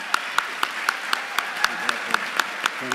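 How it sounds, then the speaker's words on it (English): Sparse, evenly spaced handclaps at a mayoral debate, about a dozen sharp claps in three seconds from a small audience, close and fairly steady with no talk over them. "I was going to ask for a round of applause for both candidates"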